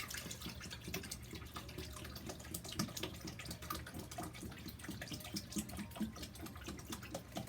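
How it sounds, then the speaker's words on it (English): Water from a source called Crystal Spirit is poured into a spray bottle for a rose quartz floral spray, a soft, steady trickle and gurgle that runs quietly throughout with no voices. "So let's go ahead and pour the water in it."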